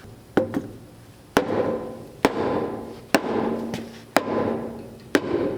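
Six sharp metallic hammer blows ring out about once a second against a stuck aluminum wheel on a Mercury Capri Turbo, each followed by a brief resonant decay, close and loud with no talking.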